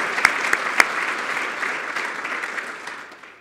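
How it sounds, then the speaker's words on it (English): A round of applause from a luncheon audience, steady dense clapping with a few sharp nearby claps early on, gradually fading toward the end. "So let's give them a round of applause for being past recipients."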